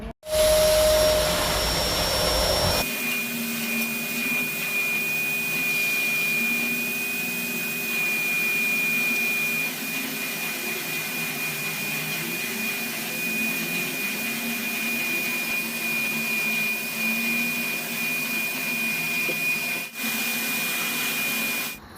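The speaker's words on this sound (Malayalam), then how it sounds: "അങ്ങനെ റൂമെല്ലാം വാക്കം ചെയ്ത് കഴിഞ്ഞു" A household vacuum cleaner runs steadily while cleaning a sofa, carpet and rooms, a loud continuous whine with a high tonal hum, starting abruptly after a brief quieter moment and briefly dipping near the end.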